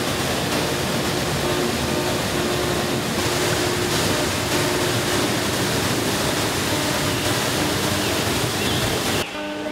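Steady roaring rush of a waterfall in a nature reserve, loud and close, a dense continuous wash of falling water with no talk, cutting off abruptly at the end.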